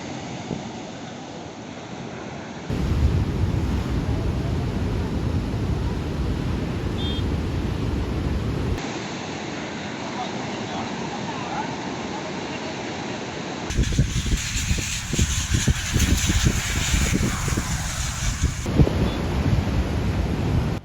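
Stormy wind and heavy surf at Kollam beach in Kerala during monsoon rains, a roaring, continuous wash of waves under gusting wind buffeting the microphone, loud and unbroken across several cuts.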